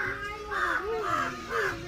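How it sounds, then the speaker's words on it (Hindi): A crow caws repeatedly in a rural outdoor cooking setting, about four harsh, rhythmic caws close by and fairly loud, with faint background noise between calls. "अरे कौवा कितना काँव काँव करता है जी"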